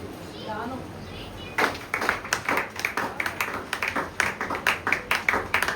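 A church congregation, children among them, claps in a steady rhythmic beat, close and fairly loud, after a brief stretch of talking.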